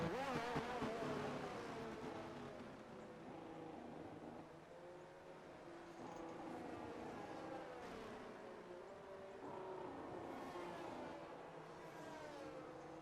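Race cars circle a Texas oval in a racing video game, a faint, steady engine drone with rising and falling pitch as cars pass, with no talk.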